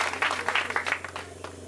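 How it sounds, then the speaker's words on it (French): A church Christmas service audience in Owando applauds, a dense run of clapping that swells and thins over a short stretch, close and fairly loud, with no speech over it. "on les applaudit parce qu'ils ont eu le courage de témoin"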